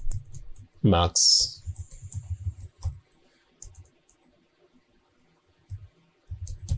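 Scattered keyboard taps and mouse clicks sound close and light on a computer in a quiet room, with someone talking intermittently over them.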